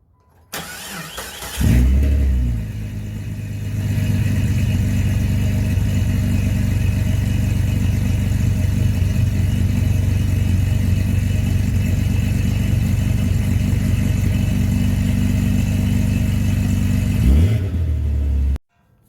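A truck engine cranks and catches, then runs at a steady, loud, rumbling idle for about fifteen seconds before shutting off, while a vehicle with a fluid-leaking steering box is moved into the garage.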